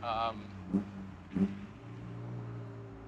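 A 500 hp Mitsubishi Evo 9 engine idles with a steady low exhaust rumble, with two short blips of the throttle under a voice.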